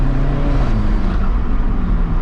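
An Alfa Romeo 4C sports car engine hums loudly and steadily nearby, its tone easing slightly lower over a couple of seconds.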